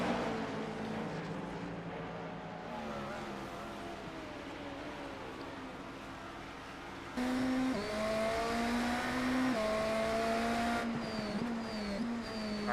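Race cars in iRacing at Road Atlanta, including a Porsche spinning off, howl with revving engines and shifting pitch as several pass close and loud, layered over a steady track drone.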